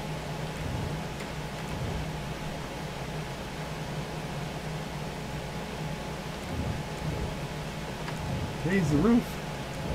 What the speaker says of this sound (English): In the rain, we're going to try the... I might not have the horsepower, but in the rain, Bumblebee might be the one.